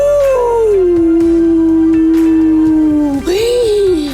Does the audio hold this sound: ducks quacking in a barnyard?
no